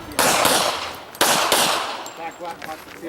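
Pistol shots fired at three targets during an IDPA match stage at an outdoor wildlife club range, three sharp, loud cracks with ringing decay, spaced about a second apart, followed by faint background chatter and noise.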